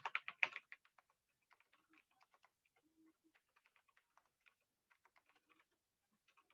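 Someone types in Excel on a computer keyboard: quiet, close, irregular key clicks, with a quick flurry at the start and scattered taps after it.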